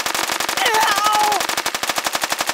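Rapid machine-gun fire from the Kick the Buddy video game, a steady stream of evenly spaced shots running throughout, loud and close, with brief whooshing effects in the middle.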